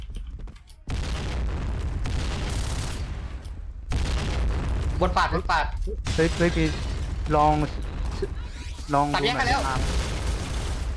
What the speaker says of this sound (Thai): โอ้ระเบิดเยอะ